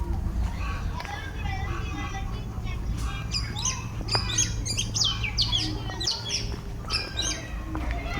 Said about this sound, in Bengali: পাখির ডাকগুলো একটু কান দিয়ে শুনুন